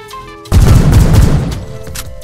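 An HK417 rifle from a Minecraft Bedrock guns mod fires a loud, rapid full-auto burst that starts abruptly after a short pause, with dense overlapping shots and a booming tail that fades out.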